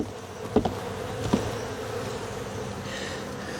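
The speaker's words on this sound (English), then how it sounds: "You shake the frame here, get some of that, some of the bees off of it." A steady buzz of honey bees humming close by at an open horizontal hive, with a couple of brief knocks and bumps near the start as a frame is shaken.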